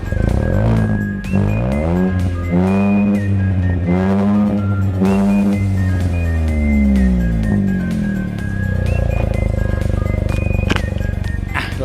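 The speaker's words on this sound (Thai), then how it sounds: "เดี๋ยวฟังเสียงเดี๋ยวเบิ้ลให้ฟังนะครับ" A Honda City Hatchback in Sonic Grey with an aftermarket exhaust being revved, the engine note rising and falling through several loud, throaty blips close by, with no talk over it.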